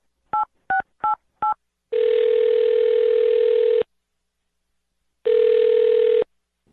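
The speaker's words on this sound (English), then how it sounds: "I'm going to dial her phone number right now" Four short touch-tone beeps, then two long steady ringback tones separated by a pause of silence, clear and close.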